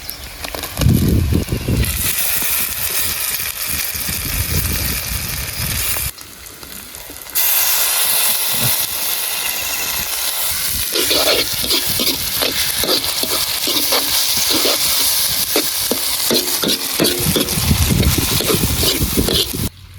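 Finely chopped tomatoes with ginger paste fry in a pan for village-style egg kheema masala, a loud, close hissing sizzle broken by brief pauses and punctuated by scraping stirs, with no speech.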